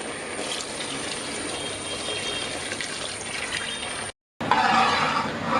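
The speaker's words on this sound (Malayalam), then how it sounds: "ഇനി ഇതിനകത്തേക്ക് നമുക്ക് തേങ്ങയുടെ 2ാം പാൽ ചേർത്ത് കൊടുക്കാം." Second coconut milk poured into thickened jaggery syrup for Kerala Ada Pradhaman, giving a steady, close pouring and bubbling wash with a brief dropout near the end.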